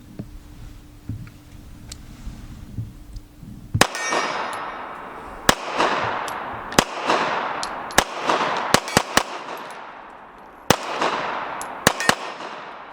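Sharp, loud pistol shots from an STI Apero 2011 in .45 ACP firing Tula ammunition, about a dozen reports spaced irregularly after a quiet start, each with a ringing decay, no talking.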